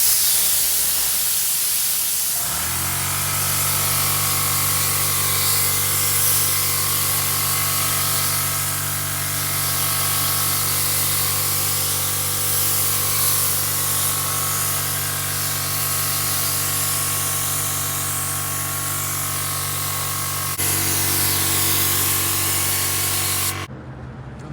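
A green Harbor Freight paint spray gun lays down clear coat with a steady, close, loud hissing spray that runs unbroken for about twenty seconds under a constant compressor-like drone.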